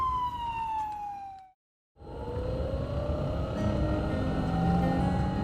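An electric ambulance siren wails in long falling and rising tones over road noise, cutting out briefly before resuming as the vehicle passes close and loud.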